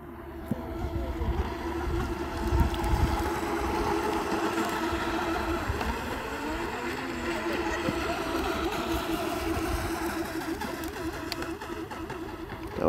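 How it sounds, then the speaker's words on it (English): A boat passes on open water at a distance, its engine a steady low drone under wind and water noise, holding at moderate loudness throughout. "Look at that boat going."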